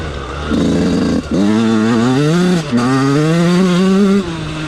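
An older-model Yamaha YZ 125 dirt bike engine revs up and down in rising and falling pitch sweeps, loud and close, with a brief drop between throttle bursts.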